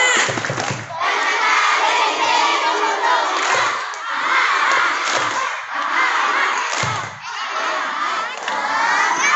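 Elementary schoolchildren from grades 6A and 6B shout a spirited class cheer together outdoors, a loud, sustained roar of young voices in rhythmic bursts with brief dips between phrases.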